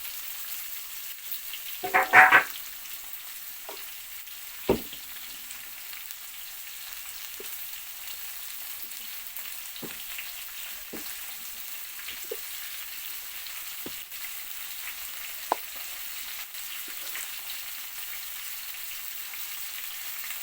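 Bitter gourd frying in a pan in a home kitchen gives a soft, steady sizzle, with a short louder burst early on and a few faint clicks and taps scattered through it.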